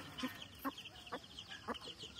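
Newly hatched chicks give a few short, faint cheeps, evenly spaced, over a quiet background hiss.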